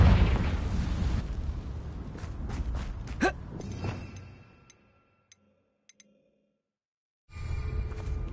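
A Confringo blasting spell goes off in Hogwarts Legacy with a loud explosive burst and crackling debris. The noise fades into near-silence with a few tiny ticks, then game ambience returns.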